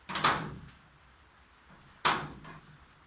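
A magnetic torch clacks onto a metal garage door twice, two sharp, close knocks about two seconds apart with short rattling decay and quiet between them.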